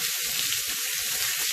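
Asparagus fries on a hot griddle, giving off a loud, steady hiss and crackle that holds constant throughout with no talking.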